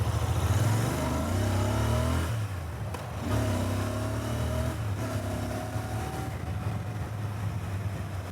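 A Royal Enfield Interceptor 650, a 650cc roadster motorcycle, accelerates at speed with a loud, close engine roar rising through repeated gear pulls, punctuated by brief dips between shifts.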